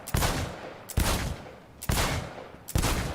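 Four loud gunshots ring out in Cyberpunk 2077 during a timed shooting-range challenge, each a sharp crack with a short decaying tail, spaced roughly a second apart with no talking.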